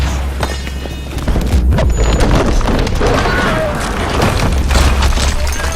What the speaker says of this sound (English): Nearby explosions rock your ears